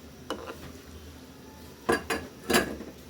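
A spoon clanks and scrapes against a pot of snakehead fish curry with tomato and potato. Three distinct metallic bursts stand out over a quiet background, the last two close together.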